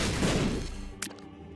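Explosions in The Binding of Isaac: Rebirth arrive as a burst of rumbling blasts that decays into a low tail, then a short sharp crack follows.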